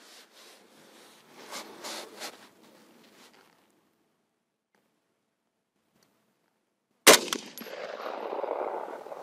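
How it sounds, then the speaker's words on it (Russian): A single sharp rifle shot from a Saiga-308 fitted with a Swamp Deer 4-16x44 scope cracks loudly after a quiet stretch, followed by a rustling, echoing tail; faint handling noises come earlier. "Делаю выстрел опять в черную точечку."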